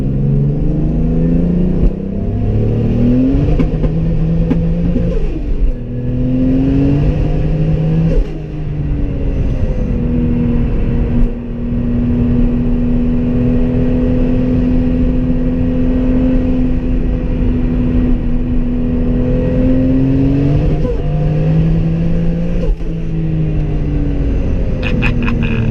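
A 700whp twin-turbo Toyota Supra engine revs and accelerates on a rainy road, a loud, continuous close-up drone with repeated rising and falling pitch sweeps as the revs climb and drop.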